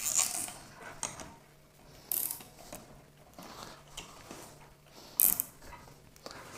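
Clamp collar being tightened on a rooftop wifi antenna mount for a Ubiquiti NanoStation link, giving short mechanical clicks and ratcheting bursts spaced a second or so apart, fairly quiet with no voices.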